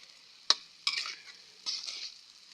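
Vegetables stir-fried in a pan during a rustic Isan-style cookout, with a few sharp utensil scrapes and bursts of sizzling over a quiet background, no talking.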